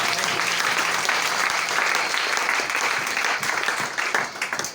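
A church congregation claps steadily and loudly throughout, a dense, sustained wave of applause that thins slightly in the final second.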